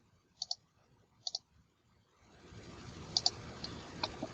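Mouse clicks while selecting lines in CAD software: two quick double clicks, sharp and close, in quiet, followed by a few more clicks over a faint background hiss.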